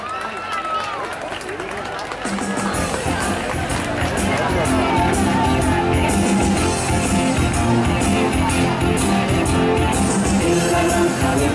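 Loud, dense crowd hubbub and cheering fill a village plaza in Guadamur, Spain, as a Viking parade float rolls in during the Santísimo Cristo de la Piedad festival, with a steady roar throughout and voices mixed in.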